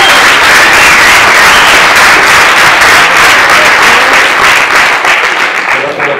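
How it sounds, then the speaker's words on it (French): An audience applauds at an HTML5 developer meetup in France, loud dense clapping from a large crowd that holds steady and then tapers slightly at the end. "On peut s'applaudir"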